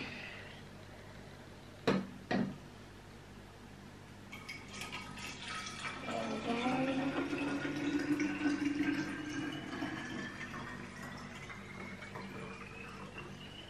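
Liquid poured from a bottle to fill a glitter lamp trickles and gurgles steadily for several seconds, preceded by two sharp knocks, with a rising filling tone as the vessel fills.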